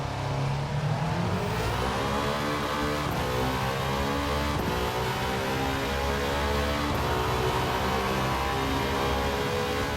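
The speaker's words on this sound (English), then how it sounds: "Now listen to the Vantage, it's like a monster truck." An Aston Martin Vantage engine in Gran Turismo 7 revs hard and climbs through its gears with a deep, loud, continuous roar, heard alone without talk.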